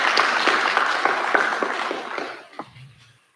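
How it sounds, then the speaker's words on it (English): Applause from a seated audience at a science innovation awards launch, a dense steady clatter of many hands that holds for nearly three seconds and then thins out and fades. "Another round of applause for the Honorable Minister."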